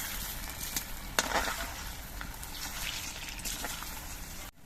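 Vegetarian imitation eggs fry in hot oil in a wok, a steady close sizzle with faint crackles and one sharp pop, cut off abruptly near the end.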